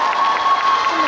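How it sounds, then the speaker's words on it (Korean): Crowd at a Busan International Film Festival open talk gives warm applause and cheers for the director and actors, a brief, loud burst of clapping and voices with a steady tone running underneath. "감독님과 배우님께 다시 한번 뜨거운 박수 부탁드립니다."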